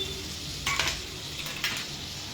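Capsicum, sweet corn and tomato sizzle steadily in a hot pan at a cooking session, with two brief scraping stirs breaking through the continuous frying hiss.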